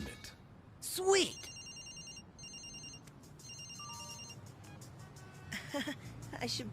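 A cartoon cell phone rings in Ultimate Spider-Man with a steady repeating electronic tone pattern, a brief whooshing effect near the start, and faint background sound throughout.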